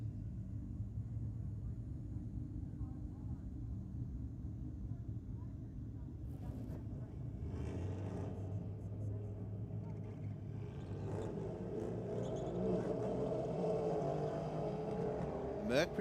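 A Mazda wagon and a Mercedes-Benz drag racing at a strip, low engine rumble and rising revs from the distance, building louder toward the end, with a commentator talking over it.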